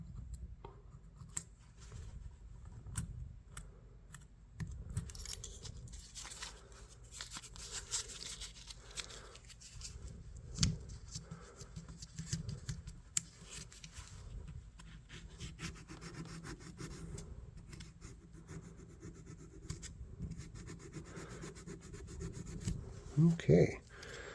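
Junk is scraped off the blade of a vintage L.L. Bean fish knife, close-up steady rasping strokes that repeat throughout, with a few sharper scrapes near the end.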